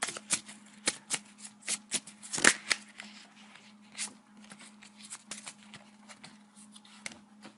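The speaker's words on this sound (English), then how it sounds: "Just going to give it a quick 30-second shuffle." A deck of playing cards is shuffled by hand in a quiet room, with a rapid series of crisp riffles and soft clicks in irregular bursts, close and fairly faint.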